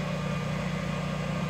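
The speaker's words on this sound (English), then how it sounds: "oh, there goes my emergency generator." A backup emergency generator runs its weekly test outdoors behind clutter near a patio, giving a steady low engine drone with a constant hum and no change in level over the short stretch.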